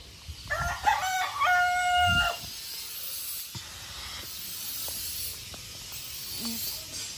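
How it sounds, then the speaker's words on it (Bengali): A rooster gives one full crow at moderate distance outdoors near a muddy brick path, followed by quiet open-air ambience. "দেখো এখানে একটা মোরগ"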